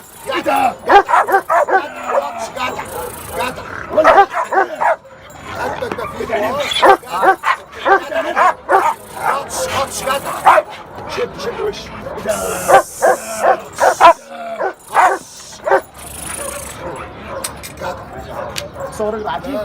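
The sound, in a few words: dogs barking at a dog market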